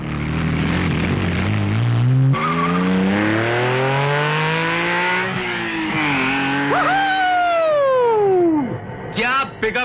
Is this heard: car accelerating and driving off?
yes